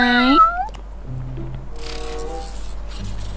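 A house cat gives a clear, close meow at the start, followed by softer, lower mewing sounds over a steady background hum.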